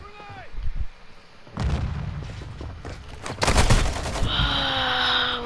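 Call of Duty Modern Warfare 2 gameplay: a grenade goes off with a heavy, close boom, then a second loud blast follows amid gunfire-like crackle, with a player's voice nearby.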